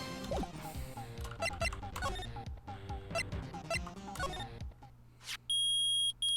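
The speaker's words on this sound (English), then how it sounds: "It's beeping. The metal detector's found something." Electronic beeping from a metal detector in the Phoenix Wright: Ace Attorney video game: a burst of chiptune-like game music with chirps and blips, then a brief swoosh and a loud, sustained tonal beep at the end.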